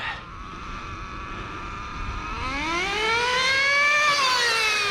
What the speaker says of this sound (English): Oh yeah, now that's got some revs